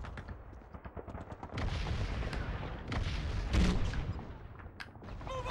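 A Call of Duty 2: Big Red One grenade goes off amid World War II gunfire, a booming burst rising over a continuous din of shots and battle noise.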